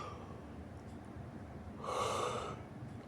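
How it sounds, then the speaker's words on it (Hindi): A Bible study teacher gives a single short, breathy yawn near the end, rising briefly above a quiet room background with no talking. "मुझे उबासी हो गई"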